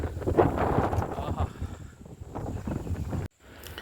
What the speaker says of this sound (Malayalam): നല്ല കാറ്റടിക്കുന്നുണ്ടോ, സൂപ്പർ കാറ്റ്.